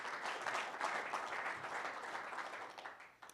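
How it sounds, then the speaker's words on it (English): A camping business meeting audience gives a round of applause: dense, even clapping from a modest crowd, moderately distant, fading toward the end with no speech over it. "Let's clap for this one"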